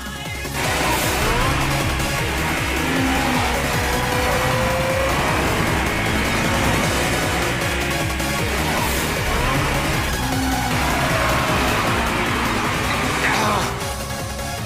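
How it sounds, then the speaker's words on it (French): Cars drift through an anime street race, one a Nissan GT-R, in a loud, continuous roar of engines and screeching tyres that carries on throughout, with a voice faintly underneath. "la course s'est transformée en un duel de dérapage"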